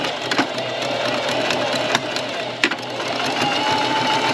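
A sewing machine stitches elastic held under the presser foot, a steady close mechanical whir running throughout with a few brief clicks and knocks, no talk.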